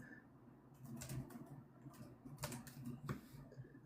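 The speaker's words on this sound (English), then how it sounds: "I'm just typing this in." Typing on a computer keyboard during a podcast roundtable, a faint, irregular patter of key clicks over a steady low room hum, with no talking.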